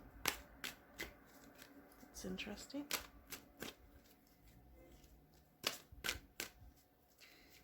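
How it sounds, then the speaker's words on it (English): Soft riffling and snapping of tarot cards being shuffled in short bursts, quiet and near, with a brief spoken remark partway through. "These cards are being very stubborn. They don't want to be shuffled."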